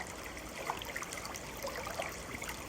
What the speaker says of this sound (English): I pick some and rinse them in water to prepare my brunch.